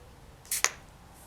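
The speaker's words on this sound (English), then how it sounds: "Then I'm going to spray again," A spray bottle mists polymer clay in two short, sharp hissing puffs in quick succession, close and crisp against a quiet room.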